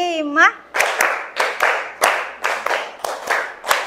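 Children in a classroom clap a patterned rhythm together, about eight sharp group claps in steady beats following a brief sung or spoken cue.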